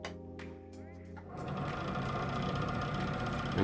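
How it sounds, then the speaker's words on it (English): A lathe motor starts up and settles into a steady low-speed running hum, preceded by a brief moment of quieter mechanical sound, close and continuous. "I'm just going to turn the lathe right down"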